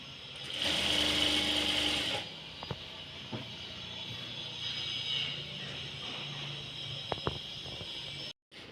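A sewing machine stitching a blouse sleeve, which runs in one loud, steady burst near the start and then stops, leaving quiet room noise with a few light clicks and taps.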